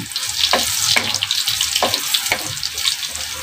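Garlic frying in a pan toward golden brown, a steady close sizzle with watery hiss and a few sharp crackles and pops spread through it.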